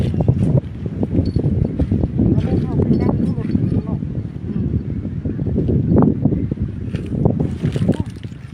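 Steady wind gusts buffet the microphone with a constant low rumble, alongside faint water movement and distant voices.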